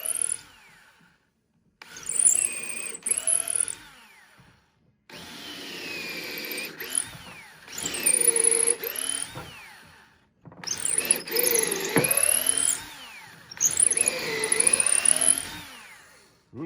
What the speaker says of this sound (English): so we now have drilled the holes that the lag screw will go into